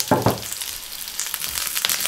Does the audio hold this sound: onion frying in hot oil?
yes